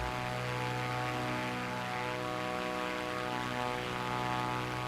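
A Cessna 400TT propeller aircraft in Microsoft Flight Simulator drones with a constant, loud engine and propeller roar, steady in pitch throughout the climb, heard alone without talk.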